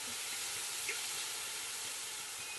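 Wine poured into a hot pan of browned flour gives a loud, steady hiss and sizzle of steam that holds evenly from start to finish.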